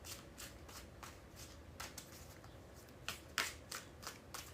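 A deck of cards is shuffled in soft, quick riffling bursts, faint and close, with a slightly sharper flurry near the end and no talking.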